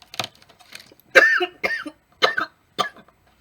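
Several sharp coughs burst out one after another at close range, each short and raspy, with short pauses between them and no talking.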